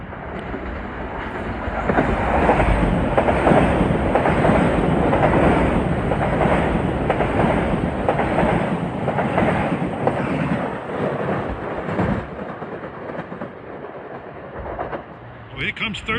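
Metro-North train 1373, running from Stamford to Grand Central, roars by close and steady with rail clatter for about ten seconds, then tapers off into quieter rumble.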